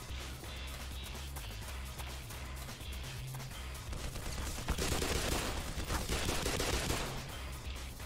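Gunshots ring out in the game Black Mesa, a steady patter of shots under low rumble that swells into a louder, denser barrage midway before easing off again.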